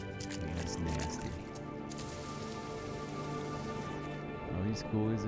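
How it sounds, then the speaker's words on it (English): Steady rain falls in the video game No Man's Sky, a dense continuous patter over a musical game soundtrack with a few brief louder moments near the end. "It's raining."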